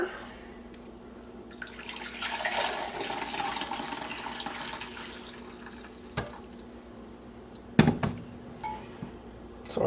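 Water pours into a soup pot of softened vegetables and beef broth for beet soup, a steady splashing swell that rises and fades, followed by a few sharp clinks near the end.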